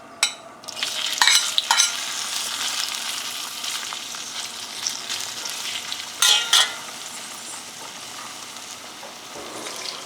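Sausages cut on a 45-degree angle fry in a pan for pasta aglio e olio, giving a steady close sizzle broken by a few louder bursts of stirring and clatter, with no one talking.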